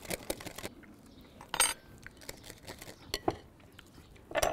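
A utensil mixes garlic into mayonnaise for aioli in a bowl, with a few sharp, irregular clinks and scrapes against the bowl separated by quiet pauses.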